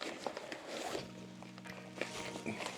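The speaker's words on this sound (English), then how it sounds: "There's a zip pocket right there." A zipper runs on the pocket of a drone carrying bag, short scratchy pulls with light handling rustle around them, close up and fairly quiet.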